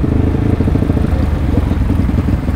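A Yamaha KLX motorcycle idles and revs close by, its exhaust giving a steady, loud, throbbing low rumble with a rattly pulsing texture that runs for the whole stretch.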